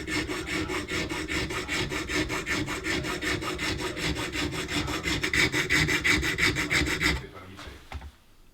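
Rasping, rhythmic filing on an APS airsoft upgrade trigger being fitted to the gun, steady repeated strokes close up for about seven seconds before stopping, no talk.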